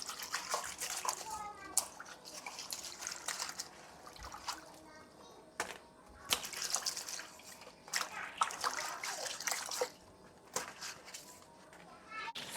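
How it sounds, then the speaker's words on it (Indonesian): Leaf-wrapped dumplings are washed by hand in water one at a time, with soft trickles and splashes coming in bursts while people talk nearby. "Langsung kita cuci. Bersihkan satu-satu."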